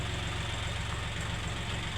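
A tractor engine idles steadily with a low, rhythmic, chugging pulse, continuous and fairly close, with no talking.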